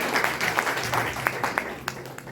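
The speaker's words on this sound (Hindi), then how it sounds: "तालियां बजाएंगे बहन के लिए" An audience claps in a short burst of scattered, fairly quiet applause, with individual hand claps standing out over a low murmur of voices.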